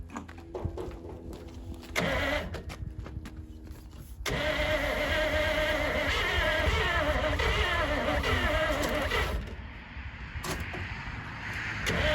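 A 1932 Chevy hot rod built in the 1960s, primed with starting fluid, cranks and then catches, running loud and steady for several seconds before a brief dip in the engine note.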